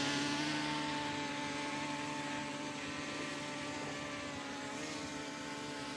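A Holy Stone HS720E drone hovers just after automatic takeoff, giving a steady, fairly loud motor and propeller drone with a sustained tonal whine, continuous and even for the whole stretch, with no talk over it.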